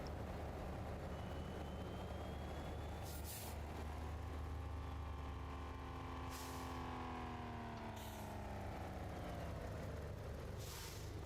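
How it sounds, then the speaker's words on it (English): Truck air brakes hiss in a modded trucking video game with a Logitech G923 wheel, over a steady loud engine drone with a slowly rising and falling tone and several brief bright bursts of hiss, no talking. "So you can hear the air brakes even more than you can normally."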